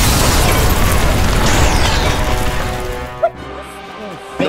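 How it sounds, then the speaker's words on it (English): Daleks fire their weapons in a Doctor Who trailer. The loud, dense blasts and crackling effects rush together, then cut to quieter moments with a few sharp pops. "The Daleks are firing at us."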